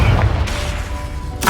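A Confringo fire spell explodes in Hogwarts Legacy with a deep booming blast, a rumbling tail fading over about a second and another burst starting at the end, loud and close, with no speech.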